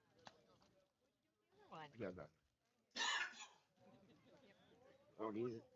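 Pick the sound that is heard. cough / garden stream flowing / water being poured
cough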